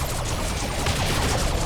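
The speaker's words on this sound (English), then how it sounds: "The Shuriken cannon opening up from another angle as well." A Shuriken cannon on the Dawn of War 2 battlefield fires a dense, rapid barrage of shots. The bursts blur into a continuous loud roar of gunfire.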